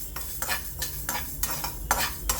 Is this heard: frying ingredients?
yes